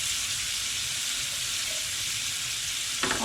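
Fillet steak and mushrooms sizzle in a hot pan, a close, steady broadband frying hiss that runs unbroken, ending with a brief clatter.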